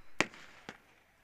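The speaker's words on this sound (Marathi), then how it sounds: "फटाक्यांची आतषबाजी" Firecrackers burst in the crowd at a cricket final on a beach ground: two sharp cracks about half a second apart, the second somewhat fainter, heard at a distance with quiet ambience in between.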